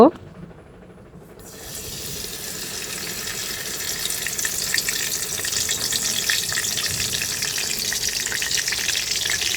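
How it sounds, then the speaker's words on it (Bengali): Steady hissing sizzle of whole garam masala spices frying in hot oil for khichuri builds after a quiet first second and continues evenly, with faint background noise. "গরম মশলাকে একটু লাল লাল করে ভেজে নেব"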